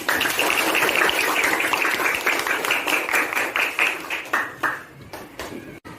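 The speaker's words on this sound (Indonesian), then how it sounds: "Nah, kasih tepuk teman-teman." Classroom students applauding a group presentation, a burst of brisk clapping that is loud at first, then thins into scattered individual claps and fades out.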